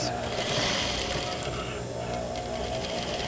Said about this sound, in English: I'm going to back stitch and I'm going to continue straight down.